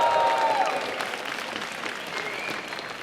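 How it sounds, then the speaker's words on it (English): An audience claps loudly and steadily at the Multiplay i49 LAN event for the Team Fortress 2 final. The dense applause fills the whole stretch and eases off slightly toward the end. "Applause for yourself."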